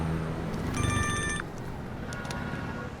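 A mobile phone ringing, a bright electronic ringtone burst of repeating tones that starts shortly into the clip and stops after under a second, followed by faint beeps over steady street background noise.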